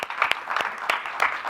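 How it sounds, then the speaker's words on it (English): A small group at a board meeting gives a short round of applause, a thin spread of scattered individual claps heard at moderate distance. "let's give those teams a round of applause for the hard work that they have done."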